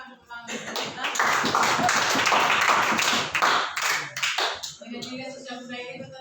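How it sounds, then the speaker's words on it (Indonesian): A class audience claps for a few seconds, many hands tapping in a steady close patter that swells, then fades, before a voice resumes speaking. "silakan tepuk tangan untuk kita"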